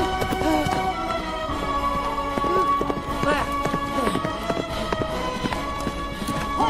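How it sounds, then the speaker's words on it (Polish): Hooves clip-clop in a quick running rhythm as a horse moves off, amid music and voices in a dramatized audio scene. "To mój koń!"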